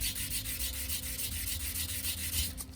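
Abrasive rubbed over a drinks can, a close, rapid rhythmic scratching and scraping back and forth, alone and steady.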